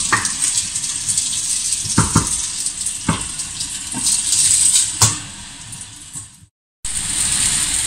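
Tomatoes frying over high heat for ratatouille give a continuous close sizzle, broken by sharp scrapes and clinks of stirring and a brief drop to silence near the end.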